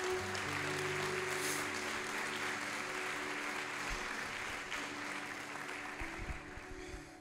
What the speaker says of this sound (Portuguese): Uma salva de palmas a todos os cristãos que estão na batalha agora